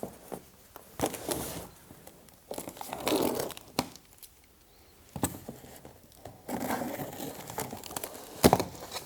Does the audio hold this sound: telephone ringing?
no